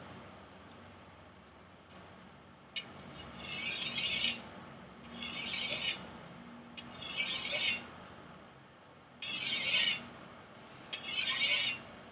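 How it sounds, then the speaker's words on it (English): A chef knife is drawn across an uneven whetstone in five separate light strokes, each a short gritty rasping scrape with quiet pauses between them, close up. "Just a few light passes on the"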